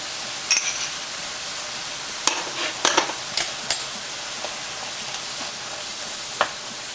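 Chili sauce being stirred into ma po tofu in a hot pan, with soft sizzling under scattered scraping and clinking of a utensil against the pan, close and moderately loud with no talking.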